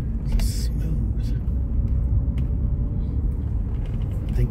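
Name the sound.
car engine running smoothly while driving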